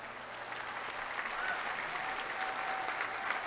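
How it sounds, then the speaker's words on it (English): Steady applause fills a gala awards hall for the evening's host, a dense even wash of clapping from a large crowd sustained throughout. "Can we get a round of applause for Alicia?"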